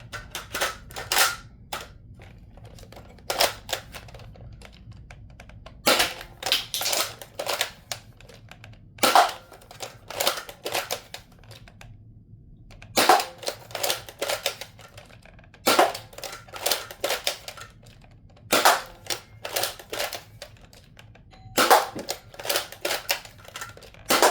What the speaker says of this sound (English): Shooting 8 of these green waffle head darts, same ones that I've been using all video.